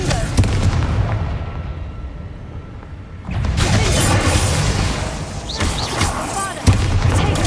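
Repeated Confringo blasting-spell explosions in Hogwarts Legacy, a steady barrage of loud booming bursts with dense rumbling fire, quieter at first and then swelling louder, with a sharp fresh blast near the end.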